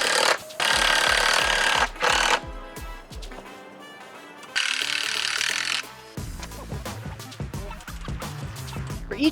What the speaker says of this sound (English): I set my saw to 30 degrees and then continuously cut my 2x4s until I had 16 separate pieces